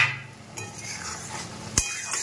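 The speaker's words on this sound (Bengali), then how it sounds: "এটা লাল শাক ভাজা।" Red amaranth greens stir-fried in a pan, a soft sizzle under a few scraping stirs and one sharp clink of a utensil against the pan, close and fairly quiet, with no talk.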